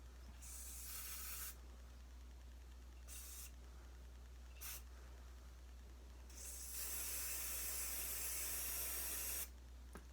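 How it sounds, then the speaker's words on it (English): Hairspray hisses from an aerosol can in several bursts: short sprays, a quick puff, then a long steady blast lasting about three seconds, close and crisp against a quiet room hum. "I'm probably using way too much hairspray."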